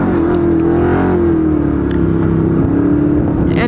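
A used offroad motorcycle engine runs steadily and loud, a close, continuous motor drone with a slightly wavering pitch and no voices over it.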